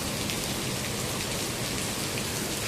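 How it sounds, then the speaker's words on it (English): Steady rain falls at dawn outside a hotel, a dense unbroken hiss of drops spattering on surfaces, loud and close throughout with no voices. "and now it's raining"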